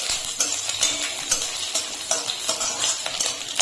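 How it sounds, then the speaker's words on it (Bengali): Garlic cloves fry in mustard oil with a continuous crackling sizzle, broken by repeated scraping stirs of a utensil in the pan; no voices. "রসুনটাকে আমি একটু ভেজে নেব।"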